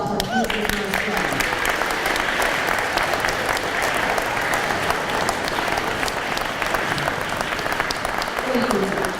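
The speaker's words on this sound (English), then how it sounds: "please, a round of applause for teachers and our staff" Dense, sustained applause from an audience at a school fire commemoration honouring teachers and staff, steady and fairly loud throughout with voices mixed in.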